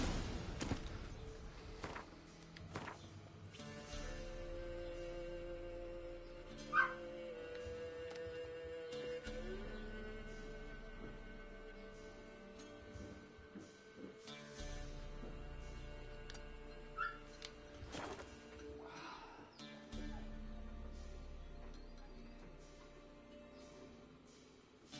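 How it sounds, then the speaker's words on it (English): A neighbor's dog whines and whimpers on and off in the distance, with a few yips and short barks, faint beneath steady tonal background music. "Neighbor's dog being a whiny bitch."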